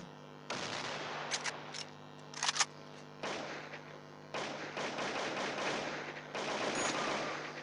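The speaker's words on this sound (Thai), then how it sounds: "ใครยิงกันบ้างวะเนี่ย" Game gunfire in the FPS Crisis Action, bursts of rapid automatic shots in several separate strings with short gaps and a few single cracks, fairly close but quiet overall.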